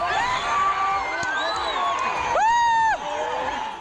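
A crowd rushing onto a cricket field at the end of a match cheers loudly, with overlapping shouts and high whoops, including one long drawn-out yell, over a steady roar of voices.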